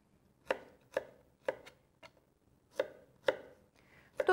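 A kitchen knife chops two garlic cloves into small cubes on a board, seven crisp, evenly spaced knocks at close range with brief pauses, no talking.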